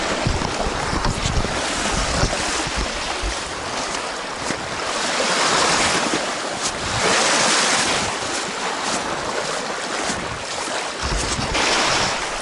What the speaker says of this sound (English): Look at that line of gentle waves rolling in down there.